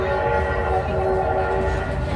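A loud, sustained steam-train whistle blast from the Polar Express, steady and droning with a rumbling undertone throughout.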